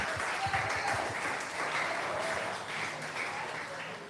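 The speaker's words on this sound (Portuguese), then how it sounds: "Aplauda Cristo." A church congregation claps together, dense steady applause filling the room for a few seconds before easing slightly toward the end.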